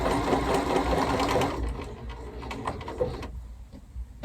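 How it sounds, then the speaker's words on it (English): Bernina Series 3 sewing machine stitching a satin stitch buttonhole side, a steady fast mechanical whir close by that slows and stops near the end, leaving a few faint clicks. "it's going to come and do the satin stitch down on the right hand side coming forward"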